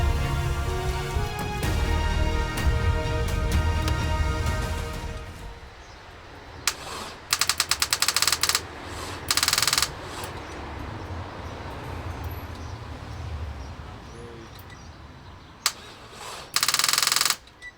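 An Audi engine being cranked as it tries to start, a loud rapid mechanical chugging at first that fades into a rougher rumble, then short harsh bursts of cranking break in later.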